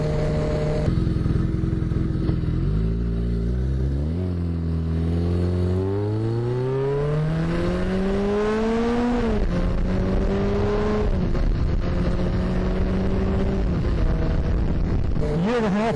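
A 1981 Suzuki GS850 motorcycle engine riding along the road, revving up through gears with rising pitch sweeps and shifting, plus steady wind rush against the microphone, fairly close and loud.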